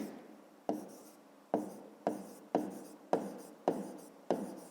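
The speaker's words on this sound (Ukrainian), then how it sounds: "Записуємо в дужках чого? Теплиць." A pen scratches on paper as a maths answer is written down, seven quick sharp strokes each fading into a soft scrape, close and quiet.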